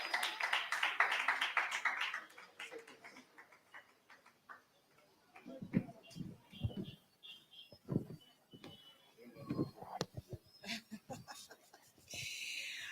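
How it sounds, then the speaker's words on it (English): A short round of applause from a small group at a women's expo lasts about two seconds, then a person starts talking. "Let's give a hand of applause as she comes up."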